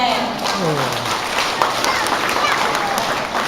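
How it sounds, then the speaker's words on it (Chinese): A crowd at a temple's elder-honouring birthday gathering claps in welcome for an elder, a dense, continuous burst of applause heard close, with a voice speaking over it. "咱掌声来欢迎一下"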